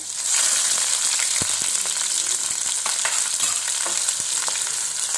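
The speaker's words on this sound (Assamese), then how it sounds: "এয়া মোৰ কেৰাহী গৰম হ'ল, মই ইয়াত তিতা কেৰেলা ভাজিম বুলি লৈছোঁ।" Sliced bitter gourd with onion and raw green chili fries in a hot wok, giving a loud, steady close-up sizzle. Sharp crackles and stirring clicks cut through it.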